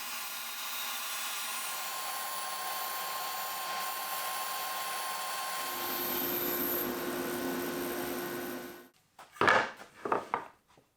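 A power tool blade runs steadily through wood during a kitchen island build, a loud continuous whine with a humming tone that cuts off abruptly near the end, followed by a few short knocks and scrapes.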